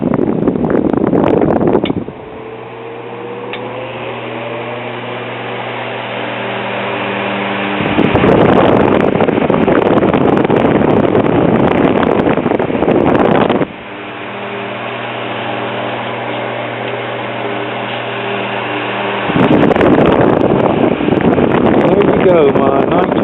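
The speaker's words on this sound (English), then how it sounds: "Go, my 1947 or 48 GE 12-inch Vortalex oscillating fan." A 1947-48 GE 12-inch Vortalex oscillating fan running on low gives a steady hum and whirr, swelling louder and then fading in regular cycles as it sweeps back and forth close to the microphone.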